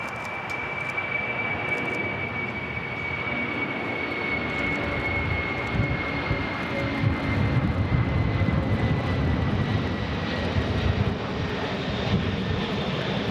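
A Coletta Air Queen airliner rotates on takeoff from LAX bound for Cincinnati, its steady jet roar rumbling loud and continuous with a thin high engine whine running throughout, no voices over it.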